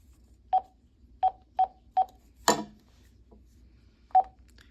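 Radio keypad tones during manual dial on a radio management menu, five short beeps in an uneven sequence with a brief noisy burst before a final beep, close and clear with no talking.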